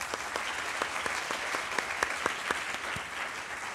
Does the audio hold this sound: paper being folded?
no